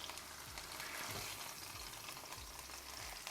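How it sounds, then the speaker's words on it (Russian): Chicken fillet sizzling steadily in a frying pan, a continuous close hiss with occasional soft scraping stirs, no voices. "Куриное филе подрумянилось с двух сторон."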